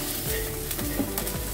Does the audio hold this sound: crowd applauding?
no